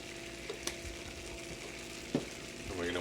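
Cream poured into a hot pan after a bourbon flambé hisses and sizzles steadily, with a few light clinks of a whisk scraping the pan close by.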